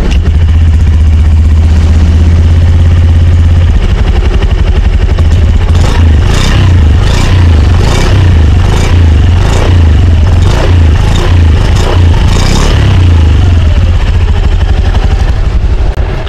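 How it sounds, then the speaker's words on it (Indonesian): Honda Beat 2023 CBS ISS scooter engine cranks and starts, then settles into a loud, steady idle with a rhythmic clatter, close to the microphone and free of talk. "Kita coba nyalakan mesinnya yuk."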